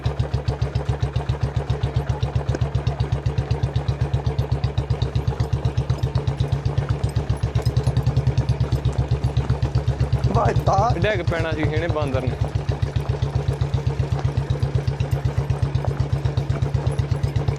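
A Farmtrac 60 tractor engine runs with a steady, even low throb for the whole stretch, while someone talks briefly partway through.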